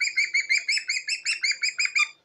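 A talkative parrot chatters nearby in a quick run of about a dozen evenly spaced, bright squawky chirps that stop abruptly.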